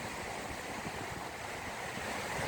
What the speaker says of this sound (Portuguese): para vocês escutarem o som do mar